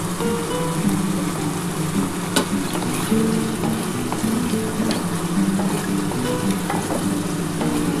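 Ghee sizzling in a pan while spinach paneer cooks, a dense continuous frying hiss like light rain with occasional faint clicks of a utensil, steady and close, no speech.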